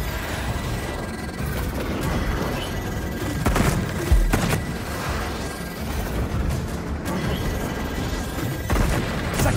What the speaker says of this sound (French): Ces trucs tirent des bombes?